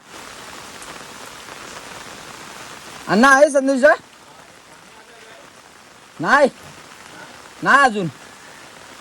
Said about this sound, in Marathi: भरपूर पाऊस पडतोय